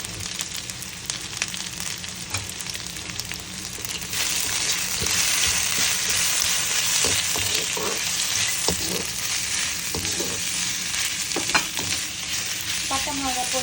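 Cinnamon and chili fry in oil in a pan for chicken pepper fry, a constant crackling sizzle that grows louder partway through, with occasional stirring scrapes.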